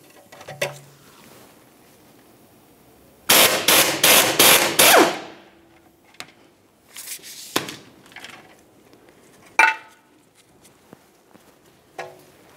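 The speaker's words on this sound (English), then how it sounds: "we'll use a 17 millimeter wrench, grab onto that stud, 15 millimeter to remove the nut" Wrench working a 15 mm sway bar link nut on a Ford Flex, heard as a loud fast burst of metallic clanks, then scattered knocks and clinks of tool on metal, close by.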